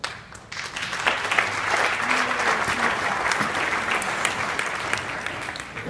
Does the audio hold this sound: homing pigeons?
no